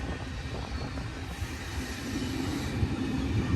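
BNSF freight train idling at the Cajon Summit tie-down, giving a steady low rumble of rail cars and locomotive with faint metallic wheel sounds, continuous and fairly close throughout.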